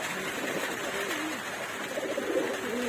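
Soft, low cooing of male pigeons, kept in during days of continuous rain, rises and falls in a steady murmur, fairly close, over a hiss of background noise with no talking.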